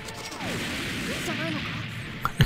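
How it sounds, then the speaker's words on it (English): Explosions in the video game Touhou Genso Wanderer Reloaded, a sustained rumbling burst lasting a couple of seconds with sharper hits at the end, moderately loud. "Explosions."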